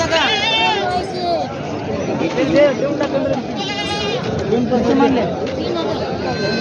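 Goats bleat repeatedly at the busy Khandoba goat market in Parbhani in 2025. Several wavering cries rise over a constant crowd murmur and people talking nearby.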